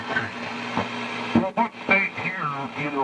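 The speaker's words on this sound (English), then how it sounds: "Okay, that's known as single-sideband." Single-sideband shortwave signal tuned in on an old AM radio, giving garbled, pitch-warped voice-like warbling with steady tonal hum, loud and continuous with brief dropouts.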